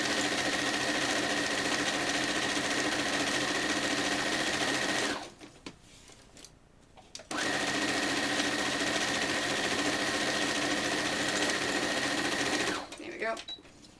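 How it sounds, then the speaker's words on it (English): A sewing machine stitches a t-shirt quilt in two long, steady whirring runs of about five seconds each, separated by a short pause with handling noise. The machine stops again near the end. "Now I'm sewing on the opposite side because this t-shirt is rolling up"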